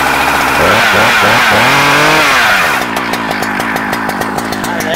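A Husqvarna 395XP chainsaw fitted with a 24-inch bar runs close and loud after a cold start, blipping and revving briefly before dropping into a rough, rapidly pulsing idle that continues alone.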